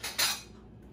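A knife cuts through a block of chilled Christmas fudge, giving two quick scraping clinks against the pan or board, close and brief, followed by a short faint trailing scrape.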